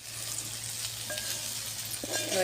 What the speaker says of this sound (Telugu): ఇట్లా మంచిగా బెండకాయ వక్కలు జిగురు లేకుండా ఫ్రై అవుతున్నాయి